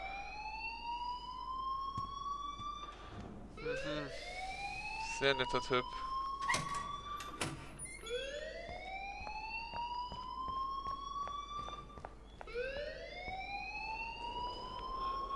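An alarm in the video game Life is Strange wails in repeated rising sweeps, about every three seconds, under game dialogue and scattered interface sounds, with a voice speaking briefly.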